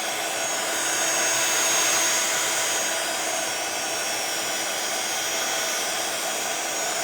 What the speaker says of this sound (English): So I'm going to bring my heat tool in and just start to dry that off.